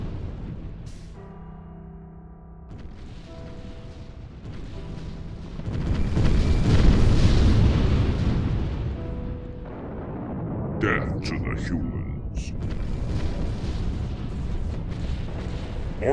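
Torpedoes fire during a space battle in a Halo-universe game, the Covenant fighting the Flood: a long rolling barrage of deep explosive booms and crackling bursts, swelling mid-way then settling into steady rumbling with sharp pops late.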